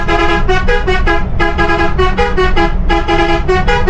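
A Volvo B11R multi-axle bus's loud, continuous musical pressure horn blares a rapid repeating melodic pattern of pulsed tones over low engine rumble.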